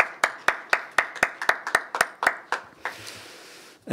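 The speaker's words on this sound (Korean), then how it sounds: "하나님께 영광의 박수를 올려드리겠습니다." A church congregation at a Korean Sunday worship service claps in a steady rhythmic beat, about a dozen sharp claps that then dissolve into a brief scattered ripple of applause.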